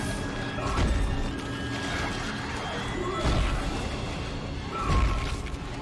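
In the Dead Space video game, a creature smashes against glass in a few heavy, muffled crashing thuds spread over several seconds, heard over a constant dense game background.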